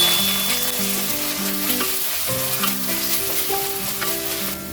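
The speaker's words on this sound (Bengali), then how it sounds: "এবার আদা রসুন পেঁয়াজের সঙ্গে মিশিয়ে নেব।" Garlic and ginger paste is stirred into onions frying in a pan, a strong, steady sizzle layered with repeated scraping strokes of a spoon, close and continuous without voices, with faint music beneath.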